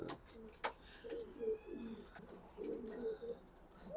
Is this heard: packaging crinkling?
no